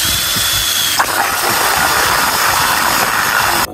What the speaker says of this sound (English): And then we're just going to start drilling into the middle.